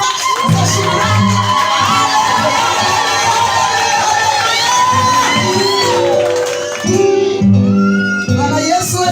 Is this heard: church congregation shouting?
yes